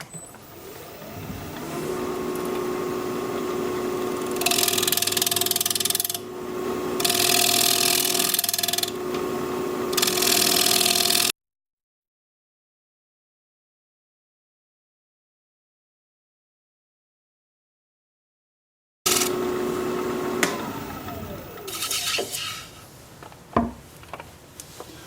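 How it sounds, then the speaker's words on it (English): Alder platter spinning on a wood lathe at 1200 RPM while a freshly sharpened 5/8 inch bowl gouge cuts, giving a steady close-up motor hum with bursts of scraping and tearing, broken by a stretch of silence before cutting resumes. "Going to be turning at 1200 RPM. Freshly sharpened 5/8 inch bowl gouge."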